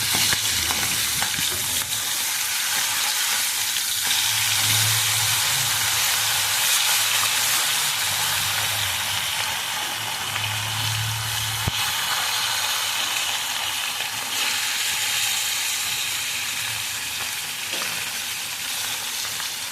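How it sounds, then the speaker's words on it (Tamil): Fish fillets frying in hot oil in a pan, a loud continuous close sizzle and crackle with occasional stirring and turning noises, no talking. "எல்லாமே திருப்பி இன்னும் கொஞ்சம் நேரம் இதை பொரிய விடணும்."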